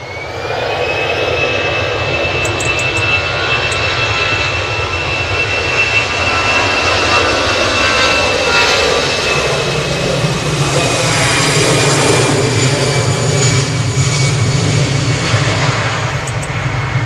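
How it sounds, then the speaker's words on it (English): An ATR turboprop airliner departing Manchester Airport, a loud continuous engine drone with a steady whining propeller tone that swells gradually and holds close and powerful throughout. "I can hear this ATR a mile away"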